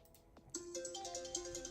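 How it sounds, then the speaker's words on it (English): A mobile phone ringtone goes off quietly during a live guitar stream, repeating a short bright melodic pattern of electronic tones after a soft click. "Sorry, my phone goes off again for some reason."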